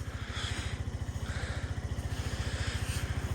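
A Suzuki Address V125 scooter engine idles nearby with a fast, even putter of regular pulses, steady and moderately loud, and no voices over it.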